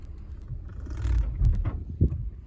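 A manual-transmission car pulls away as the clutch is let out, its low engine rumble swelling steadily and ending with a dull thump near the end.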